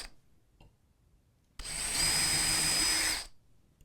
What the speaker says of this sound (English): and you drill your holes.